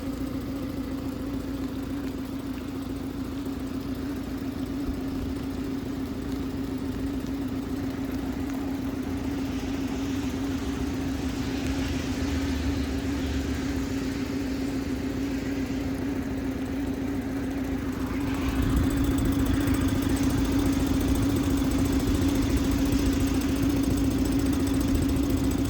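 A new Suzuki DF20 short-shaft outboard motor idles in gear, a steady low mechanical hum running throughout, getting slightly louder and rougher toward the end.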